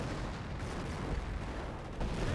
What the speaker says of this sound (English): And so the Humo barrage will miss